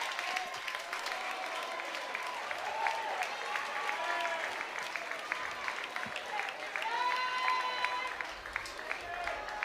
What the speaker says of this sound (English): the crowd giving him a standing ovation